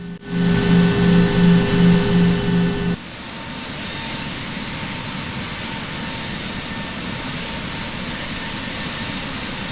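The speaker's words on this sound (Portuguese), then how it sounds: "os pilotos ligaram os motores e iniciaram o taxiamento à pista designada para a decolagem" Jet airliner engines run while taxiing to the runway before dawn: a pulsing, tonal engine hum gives way abruptly to a steady, broad roaring whine that continues loud and unbroken to the end.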